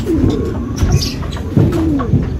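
Racing pigeons cooing at a loft, several overlapping throaty coos in a repeating rhythm, close and fairly loud over a busy background of other birds.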